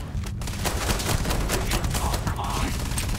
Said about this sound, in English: The firing on these guns is so fire